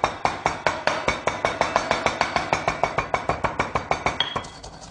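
Rapid, steady pounding of spices in a granite mortar and pestle, about five sharp, hard stone-on-stone strikes per second with a ringing, clinking edge, close and loud with no talking.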